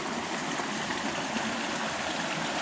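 Mountain stream on the Colorado Trail near mile 36, a steady broadband rush of flowing water, close and even throughout with no talking.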